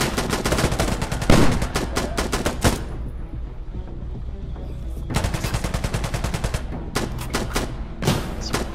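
Rapid automatic gunfire in the video game Sandstorm, dense bursts of loud shots with a brief lull in the middle before the firing resumes in sharp repeated volleys.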